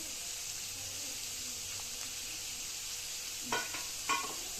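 Onion frying in a pan, a steady soft sizzle running throughout with a couple of brief clattering stirs near the end.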